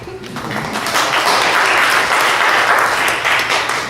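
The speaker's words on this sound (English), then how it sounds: "You can clap." An audience breaks into clapping at a conversation event, building quickly and holding as a dense, even wash of applause that fades slightly at the end.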